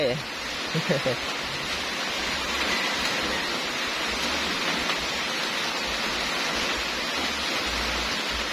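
Steady, dense rainfall during a storm hisses continuously, a broad even wash of sound with a few brief louder knocks near the start.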